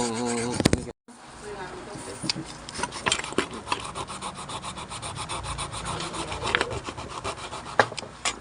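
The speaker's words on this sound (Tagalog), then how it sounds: "lihain ko tong blade na to" A file rasps back and forth across the blade of an Eastman cutting machine in a quick, steady rhythm of close scraping strokes, with someone speaking briefly at the start.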